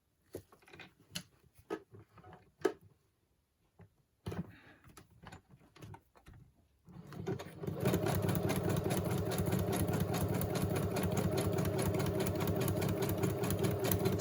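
A sewing machine runs steadily for several seconds as it zigzag-stitches across the top of a traveler's notebook, close and continuous after a few quiet clicks and handling taps.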